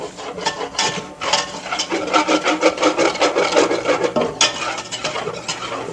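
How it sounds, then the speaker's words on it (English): A whisk scrapes and stirs flour and fat in a pan, giving a close, rhythmic rasping of quick repeated strokes that rise and fall steadily, with no talking. "And as I'm whisking, I am also scraping up those nice brown bits too as we go."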